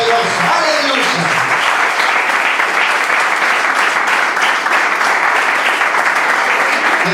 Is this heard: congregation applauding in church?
yes